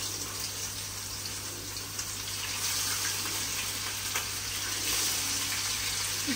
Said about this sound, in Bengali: মাছের কিন্তু ছ্যাঁচ ছ্যাঁচ শব্দ হচ্ছে